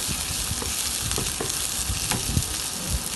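Onion sizzles and crackles steadily in a hot pan, frying alone at close range with a dense hiss and scattered pops throughout.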